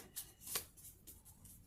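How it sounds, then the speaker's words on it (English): Tarot cards riffle and snap in a few quick, crisp bursts, close up and fairly quiet, with no talking. "I'm just going to go in for a few last shuffles."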